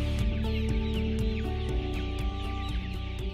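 Several chickens cluck and chatter together, close by, amid a steady low hum of background noise.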